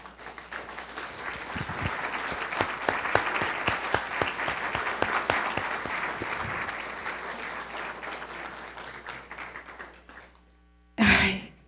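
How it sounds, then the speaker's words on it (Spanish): A church congregation breaks into strong applause, loud individual claps building into a dense wash that slowly fades over several seconds, followed by a short burst of sound at the end. "¿Por qué no le das un fuerte aplauso?"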